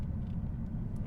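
A 2021 Lexus RC F Carbon in Sport Plus mode swings around a roundabout, its engine a steady, close, low rumble that holds level throughout without a clear rise in pitch.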